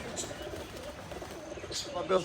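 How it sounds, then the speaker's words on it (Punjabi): Soft pigeon coos and fluttery bird calls mingle with a busy, noisy background, with a slightly louder burst near the end. "ਸਾਰੇ ਕਬੂਤਰ ਕੱਢ ਕੇ ਬਾਹਰ"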